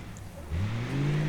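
A truck engine in the BeamNG.Drive driving game revs and rises in pitch, a steady droning tone climbing over about a second, fairly loud and without talk.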